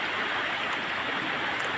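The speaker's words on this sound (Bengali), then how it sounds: "নদীর স্রোত" Steady, dense rush of flowing river water in Khattimari Forest, continuous and even throughout with no breaks or other sounds.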